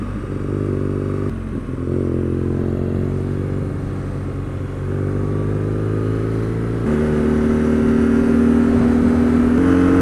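A mapped 2019 BMW R nineT Scrambler motorcycle is ridden under way, its boxer engine droning loudly and close with a steady rumbling throb, the pitch rising and shifting as it accelerates through the gears, and no talking.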